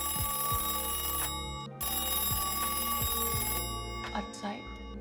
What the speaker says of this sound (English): this phone call that Kenny is hearing right now